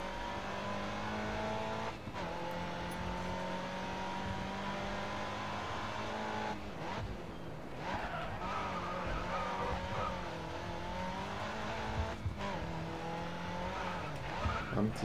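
Car tyres skid after a sharp handbrake pull in the racing game Grid Autosport, with engine drone running throughout and several squealing slides across the stretch, loud and close.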